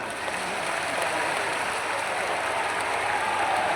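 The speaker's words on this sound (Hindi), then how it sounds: "एक बार अपने लिए ही ताली बजा लो।" A crowd claps steadily, a dense wash of applause that holds at an even level throughout.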